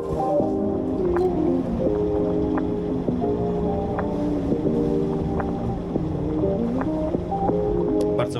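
A sailing yacht motors slowly out of port in fine weather, its engine droning steadily and close by, with wind buffeting the microphone and faint water sounds.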